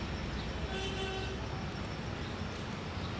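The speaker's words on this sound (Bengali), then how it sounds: "এখানে অনেক যানজট দেখা যাচ্ছে" Traffic crawls in a jam beneath metro rail construction between Motijheel and Kamalapur, a steady roadway rumble with a faint car horn tooting briefly in the distance.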